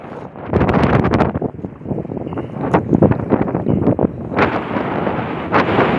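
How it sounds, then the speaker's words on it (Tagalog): Wind gusts over the sea at a fishing spot off Jeddah, buffeting the microphone with a loud, continuous broadband roar that swells and eases throughout, with no talk. "Mahangin dito."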